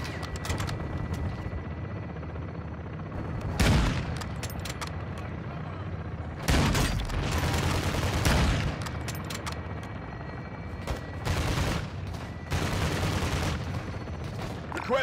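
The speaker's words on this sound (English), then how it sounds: "This is where I shoot you guys sometimes." Gunfire in the Call of Duty: Modern Warfare 2 campaign crackles in repeated bursts and booms, some long volleys and some short shots, mixed with battlefield noise and voices talking.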